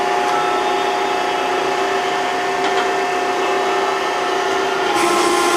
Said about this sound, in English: generates hydraulic pressure to retract the cylinder